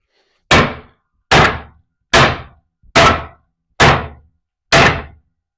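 Six heavy, sharp impacts of a tool striking a block of wood and resin, evenly spaced about once a second, each a loud close thunk with a short decay and silence between.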